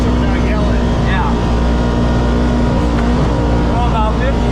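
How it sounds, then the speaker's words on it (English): Kawasaki KRX 1000 side-by-side fitted with a PLM exhaust, driving at speed with a loud, steady engine and exhaust drone throughout and no break. "Good sounding exhaust."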